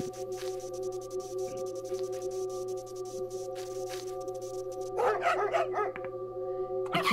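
A dog barks in the video game Bokura with a canned, recorded quality, a few sharp bursts near the end over steady tonal game music and hum.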